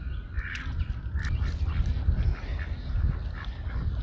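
Ducks at a homestead pond give scattered quacks and calls close by over a steady low outdoor rumble, with no talking.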